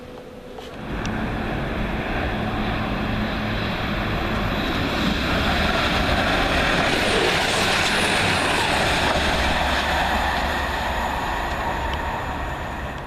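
A train rolls through Loughborough station at dusk, a loud, continuous rumble and rushing roar that swells slightly and holds for the whole stretch without talk.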